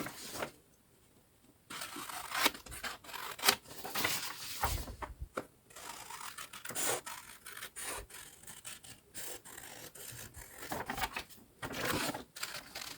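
Scissors trim the excess material from the lid of a homemade thermal bottle bag, producing quiet, uneven rustling and rasping cuts in irregular bursts with short pauses between.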